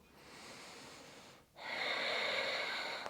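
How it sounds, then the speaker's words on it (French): Slow, deep breaths during a calming bedtime yoga flow, one long airy exhale followed by a brief pause and a stronger, louder breath, close and alone. "Encore 2 grandes respirations."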